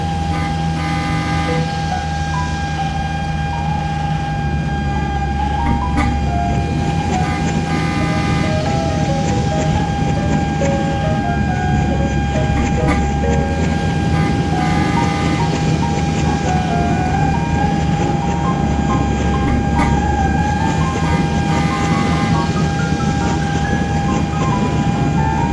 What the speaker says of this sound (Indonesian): Wow, ini adalah lokomotif CC206 teman-teman.